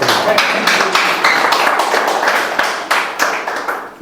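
At a Hindi-language satsang gathering, listeners break into clapping, with a few close, distinct claps over a busy patter that thins out toward the end, with voices mixed in.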